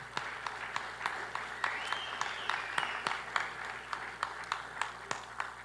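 Audience applause at a 2026 Maryland Republican gubernatorial primary debate: scattered claps with sharp individual hits over a low steady hum, moderate level, with no voices.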